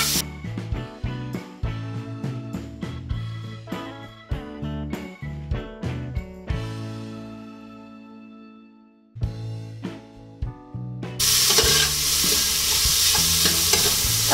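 Chopped red onion sizzles in a pan with fragrant garlic for balbacua, a soft steady frying hiss under melodic background music that swells into a louder, brighter sizzle near the end.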